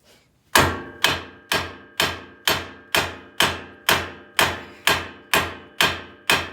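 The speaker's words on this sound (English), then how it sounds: "we're gonna have to hit right here until the ball joint pops off." A sledgehammer strikes a car's lower control arm again and again to pop the ball joint loose during suspension bushing work on a Honda Civic. Twelve loud, evenly spaced metallic blows ring out alone, with no talk.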